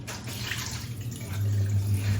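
Tap water runs steadily into a sink while a raw turkey is rinsed, a close continuous rush that grows fuller midway through the brief moment.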